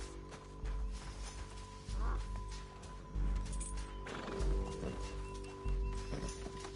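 A horse in Red Dead Redemption II gallops with steady hoofbeats over a low droning game score, with occasional thuds and a mechanical hum throughout.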